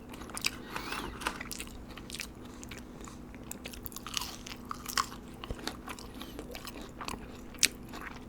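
Close, soft chewing of a burger with pickle, lettuce, tomato and mayonnaise, with wet crunches and bites over about eight seconds, no speech.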